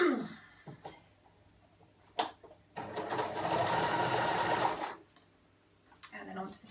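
A sewing machine runs in one steady burst of about two seconds, stitching the shoulder seam of a girl's dress. Short handling noises come before and after it, and there is no talking.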